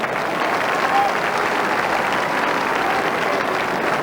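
A football crowd at an Australian rules match applauds a good effort with steady, broad clapping that holds at an even level for several seconds, sounding large and somewhat distant.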